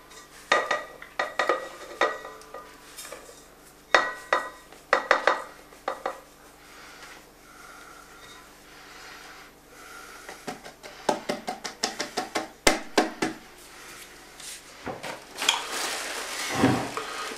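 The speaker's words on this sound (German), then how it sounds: "Die abgewogenen Zutaten gebe ich jetzt in eine Rührschüssel." Baking ingredients being tipped into a mixing bowl in a home kitchen, with repeated clinks and clatters of dishes and utensils, irregular knocks and light scraping across the whole stretch, fairly close and moderate in volume.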